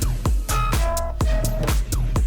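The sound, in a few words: producer's latest dance track released on a record label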